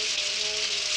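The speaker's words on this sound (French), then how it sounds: "Impossible de créer sous la pluie." Cartoon rain from a Smurfs weather machine falls as a steady, even hiss throughout, with a faint tonal hum underneath and no voices.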